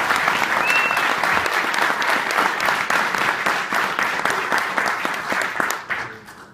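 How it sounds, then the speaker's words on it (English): An audience at a chamber of commerce board meeting applauds, with dense, loud clapping that holds steady for several seconds before tapering off. "So let's give him a round of applause."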